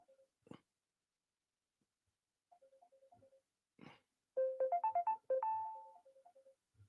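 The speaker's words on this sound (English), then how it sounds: "That was my phone." A mobile phone ringtone plays in a quiet room, short chirping melodic bursts that swell into a louder run of repeated notes near the end, with a couple of brief noises in between.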